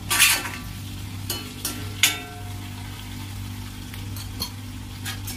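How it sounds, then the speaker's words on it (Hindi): A spoon stirs stuffed eggplant with tomato and ginger-garlic paste in a pan, giving a few scraping clatters over a steady low sizzle of frying, close and moderately quiet, with no talking. "अब इसे भी अच्छे से मिक्स करेंगे और 1-2 मिनट के लिए फिर से पकने देंगे"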